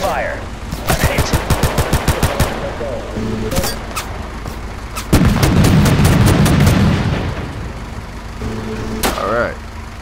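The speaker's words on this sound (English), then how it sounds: "I'm under heavy fire" Heavy gunfire in the military shooter game Total Conflict: Resistance, with rapid bursts of automatic fire and loud heavy blasts close by, broken by short pauses while voices talk over the combat.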